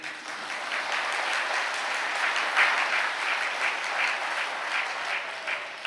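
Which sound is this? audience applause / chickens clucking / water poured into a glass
audience applause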